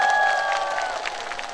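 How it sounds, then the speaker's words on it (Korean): A concert audience claps in a brief burst of applause that fades slightly. Sustained musical tones ring over the diffuse clatter of hands. "오늘 박수 한번 부탁드리겠습니다"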